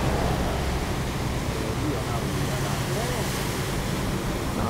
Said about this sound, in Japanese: 波がすごいですね。 おお、すげえすげえ、おお荒れてますね。